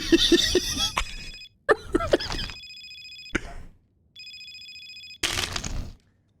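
A phone rings in electronic bursts between stretches of talk; a couple of ringing tones sound alone, separated by short pauses.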